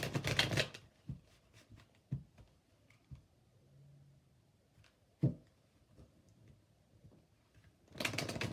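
Large tarot cards are shuffled by hand in quiet bursts of riffling and soft slapping taps, with longer flurries at the start and end and sparse clicks between.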